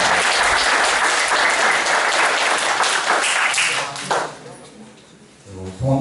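A crowd at a youth volunteer-patrol ceremony in Gumi, Korea, breaks into loud, dense applause for an introduced guest, sustained for about four seconds before fading into a quieter room with a few scattered claps.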